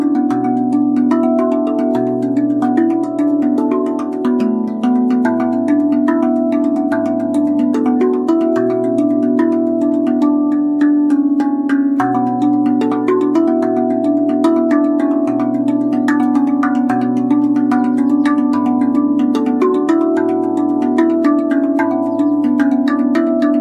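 A RAV Vast B Celtic Double Ding steel tongue drum is played solo in a slow, flowing melody, each struck note ringing warmly and overlapping the next with a soft, sustained shimmer.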